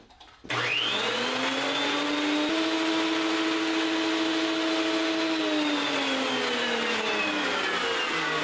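A planer fitted with a helical cutter head spins up and runs with no stock feeding through, giving a loud, steady whine that holds for several seconds and then starts to slow toward the end.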